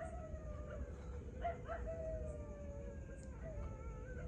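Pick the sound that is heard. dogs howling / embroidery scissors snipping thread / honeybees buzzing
dogs howling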